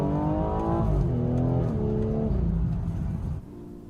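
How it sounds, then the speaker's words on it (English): A BMW M240i xDrive with a B58 engine on an XHP Stage 3 tune, heard from inside, with engine tone sweeping down in pitch over several gear changes as the turbo spools down, loud and close, fading at the end. "I can hear the turbo spool down now."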